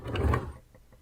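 A shop vac's plastic reservoir snaps into place on the vacuum body: a short, close mechanical clunk, followed by a couple of faint, quick clicks as the unit settles.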